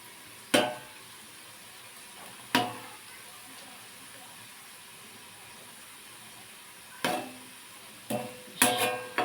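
Pea pakoras frying in a modest amount of oil over a medium-low gas flame, a soft, quiet sizzle punctuated by several sharp clinks and scrapes of a utensil against the pan, spaced irregularly and clustering toward the end.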